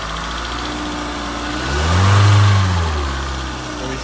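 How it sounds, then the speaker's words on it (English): A car engine idles steadily, then is revved once, the pitch rising and swelling to a loud peak before dropping back to a smooth idle, heard up close with no talking. "and then we'll give it a few revs."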